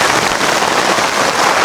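Heavy downpour on a farm plot, a dense, loud, unbroken hiss of rain pounding surfaces close by, with no voices.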